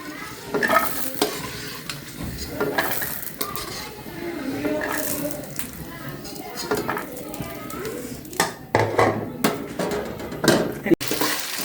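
Ingredients for vegetable fried rice frying in a pan after peanuts were toasted, a close sizzle with sharp clinks of a spatula and pan stirring throughout, and a person talking over it.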